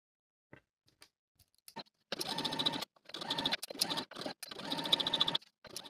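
Sewing machine hemming a linen skirt close to a rolled inner fold, running in three short bursts of rapid stitching separated by brief pauses, with faint handling clicks before it starts.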